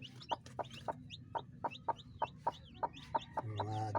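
A broody hen sitting on a clutch of fifteen hatching eggs gives a steady run of short, close clucks, about two or three per second, over a low rumbling background, with a brief squeaky chirp near the end.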